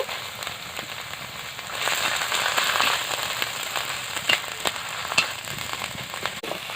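Chopped tomato dropped into spices frying in a pan, made with garlic paste, ginger paste and dried chilli paste, giving a steady close sizzle and crackle that swells partway through, with a few sharp pops and no talk.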